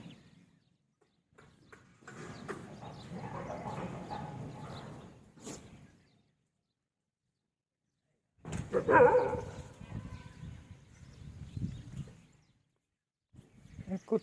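Dogs near the Jamvay Mata temple in Ramgarh barking and whimpering in the morning, two long bursts of yelping and barking separated by a quiet gap, fairly close.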